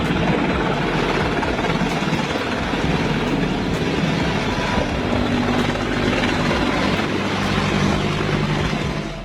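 A helicopter in flight gives a loud, steady roar of rotor and engine that fills the whole stretch without a break.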